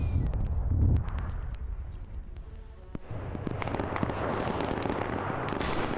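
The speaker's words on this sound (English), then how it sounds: "And they hit the naval mine." Naval mine explosion in Arma 3: a heavy low boom at the start, followed by a rumbling wash of debris and scattered crackling pops that swell again midway, loud and continuous.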